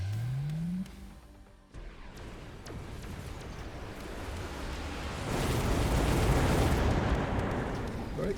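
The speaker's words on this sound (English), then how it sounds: "Let's see if the napalm makes a difference." Roaring, crackling napalm fire spreads in the strategy game Mechabellum, starting after a rising tone and a short cut, then swelling into a broad, steady rush of flame that grows louder toward the end.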